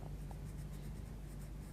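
A Derwent watercolour pencil scratches softly and continuously over paper in gentle back-and-forth strokes, close and quiet over a low background hum.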